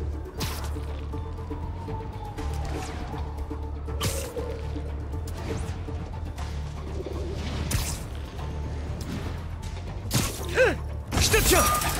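Pigeon cooing and wing flaps in Marvel's Spider-Man video game, set against a steady low city-game ambience with repeated soft calls and a few sharper bursts near the end.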